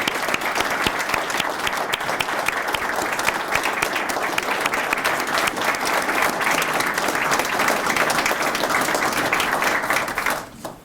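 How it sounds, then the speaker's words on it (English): An audience gives sustained applause for retired SPD Lieutenant John White at an honoring ceremony, thick continuous clapping that holds steady before cutting off near the end. "Can we please give him a round of applause?"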